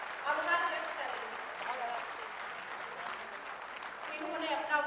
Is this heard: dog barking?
no